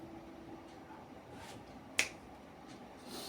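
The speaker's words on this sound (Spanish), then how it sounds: "En un chasquido de dedo" One sharp finger snap cracks out mid-way through a quiet church gathering, standing alone above a faint room hum with a few softer sounds around it.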